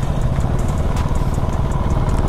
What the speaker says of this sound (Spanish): Vean qué tal acelera aquí.